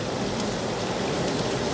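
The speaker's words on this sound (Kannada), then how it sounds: "ಫುಲ್ಲು ಮಳೆ ಬೇಜಾನಾಗಿ ಬರ್ತೈತೆ ಗಾಯ್ಸ್" Heavy rain pours down in a steady, dense hiss that fills the whole moment, loud and continuous, with no voices.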